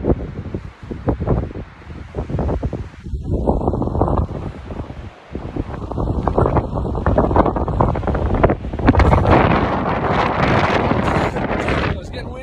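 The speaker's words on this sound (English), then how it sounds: "It's getting windy." Strong mountain wind buffets the microphone on the John Muir Trail as snow falls, a loud continuous roar with gusts throughout, and a person talks intermittently over it.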